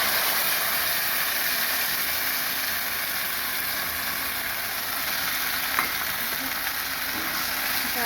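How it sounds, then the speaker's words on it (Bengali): Spices stir-frying in a hot pan, a steady close sizzle and hiss with a couple of faint utensil taps. "মশলা ভাজা হয়ে গেছে, এবার এটার মধ্যে যে মশলাগুলো রেডি করেছিলাম সেগুলো দিয়ে দেবো।"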